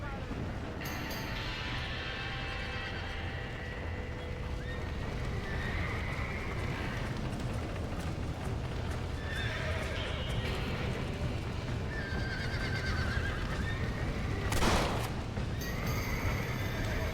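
Horses whinnying and neighing amid a chaotic scene in the Western video game Red Dead Redemption, several loud neighs rising over a constant rumbling din, with a sharp burst near the end.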